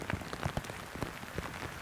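Rain falling outdoors during a muskox hunt in the Northwest Territories, a faint irregular patter of drops striking surfaces around, soft and close with no voices.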